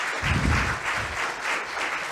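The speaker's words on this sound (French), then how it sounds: "Merci de les applaudir, c'est une forme d'encouragement" Applause from an audience at a data roundtable panel, a steady wash of clapping with some low rumble near the start, moderately loud throughout.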